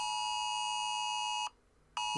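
A phone alert beeps loudly and steadily as a sustained electronic tone, cuts out for half a second, then starts again.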